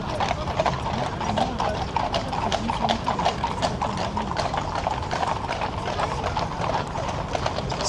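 Horse-drawn carriages passing along a street in Tokyo, steady overlapping clip-clop of hooves close by, with a brief whinny and crowd voices in the background.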